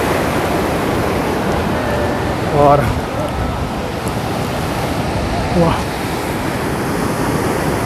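Constant roaring rush of glacier meltwater pouring down as a waterfall below a mountain on the Amarnath pilgrimage route, loud and close, with a few brief voices over it.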